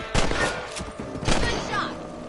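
Gunshots in the Red Dead video game as rabbits are hunted, two sharp loud bursts about a second apart, with a light ringing tail and game ambience between them.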